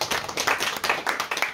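Audience clapping for young author Mathieu Lenouvel at a literary conference, a brief burst of brisk rhythmic hand claps, close and steady.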